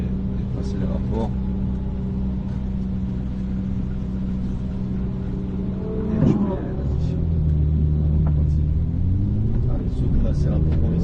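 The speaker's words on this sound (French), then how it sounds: "Donc on continuera d'accélérer et de passer les rapports." Ferrari F8 Tributo accelerating and shifting gears on a race circuit, a steady loud engine drone from inside the car with a brief shift break midway, then the pitch climbing again, with someone talking over it.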